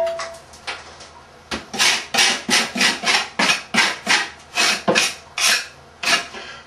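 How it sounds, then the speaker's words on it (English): Rhythmic rasping strokes of a tool scraping down high spots of tile mortar around a newly set ceramic soap dish, a dozen or so loud, close, evenly spaced scrapes with no talk. "Making sure I have any high places around there scraped down."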